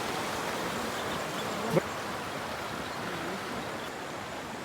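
Continuous broad rushing of river water flowing, steady and fairly loud, with a brief thump partway through.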